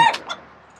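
A chicken in a coop gives a brief, sharp squawking cluck, near and fairly loud, fading within a second.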